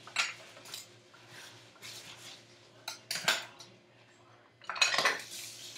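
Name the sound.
putting pickles into container for fermenting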